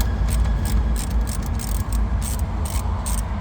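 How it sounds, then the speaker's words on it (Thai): Ratchet wrench loosening 10 mm bolts on the radio panel of a 2012–2018 Chevrolet Captiva, a steady close run of rapid clicking pawl ticks with no speech. "ถอดน็อตเบอร์สิบนะครับ"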